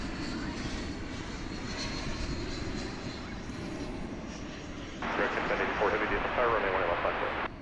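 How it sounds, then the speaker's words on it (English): American Airlines Airbus A320 jet arriving at night at DFW airport, a steady broadband engine roar that swells louder near the end, with a faint voice. "As we get ready to welcome an American Airlines Airbus A320 from Querétaro in Mexico"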